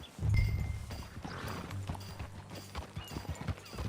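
Horse hooves clip-clop in an uneven rhythm in Red Dead Redemption 2, close and moderately loud, with occasional thuds and light background noise, no talking.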